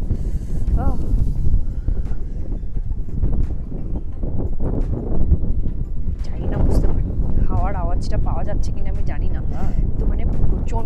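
Strong, cold, storm-like wind blows through a hillside forest near Kurseong during a Himalayan 450 motorcycle trip. It buffets and roars as a constant, heavy rumble while a person talks over it.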